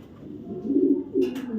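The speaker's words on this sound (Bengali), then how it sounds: "একজোড়া আফসান গ্রিজেল কবুতর" A pair of Afsan grizzle pigeons coo softly, their low throaty rolling notes swelling in two short bursts close by, with no talking.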